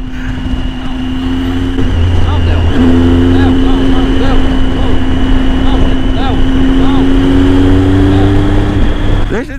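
A motorcycle engine hums and revs steadily while riding, with wind noise and a shifting engine tone; voices talk over it.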